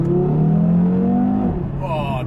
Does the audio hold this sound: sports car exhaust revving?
yes